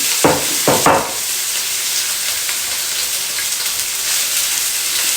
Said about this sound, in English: we're only going to saute these for about 5 minutes. Sweet peppers.